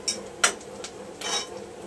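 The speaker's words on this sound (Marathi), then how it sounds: "पण थोडंसं कांद्याला हलवून घेऊया" Onions are stirred in a pan: a few sharp metallic clinks and scrapes of a spoon against cookware, with a soft frying hiss beneath.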